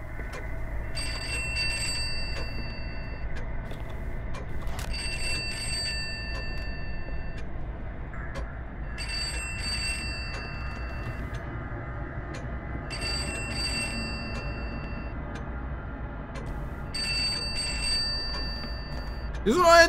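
An electronic telephone ringing in the video game Pineview Drive, in repeated bursts of a few seconds each, fairly faint, over a low background hum.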